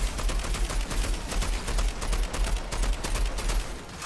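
Continuous gunfire from the Outriders video game, a dense steady stream of rapid shots filling the whole stretch at moderate loudness, with no talk over it.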